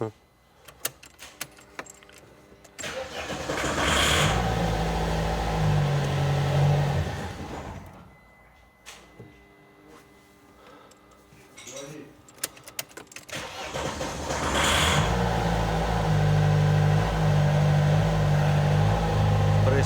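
An Opel Frontera 2.2 diesel engine, which will not start, cranks repeatedly in long whirring bursts with clicks and key jangles between attempts, while people talk nearby.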